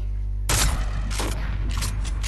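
Bursts of gunfire in an online shooter video game, a loud onset followed by several more broadband blasts spaced through the clip with a steady game hum underneath.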